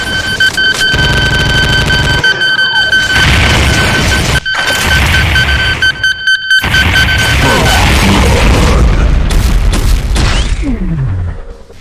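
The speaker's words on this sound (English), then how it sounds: "Its most frequent and most annoying attack is firing a volley of rockets or spiraling homing rockets." A Revenant in a Doom mod fires a volley of rockets, producing a loud, dense barrage of whooshing launches and booming blasts that run almost nonstop, with brief gaps between bursts.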